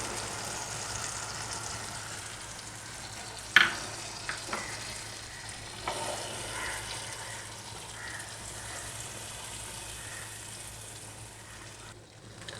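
Cashew and almond paste frying in a pan while being stirred, a soft, low sizzle with a few scraping clinks from the spoon, fairly quiet and continuous.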